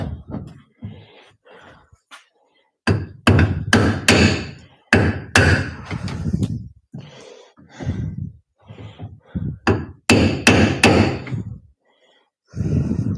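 Hammer blows while a new trunk seal is fitted on a limo: irregular bursts of sharp knocks and thuds, some in quick clusters, close and loud with short pauses between.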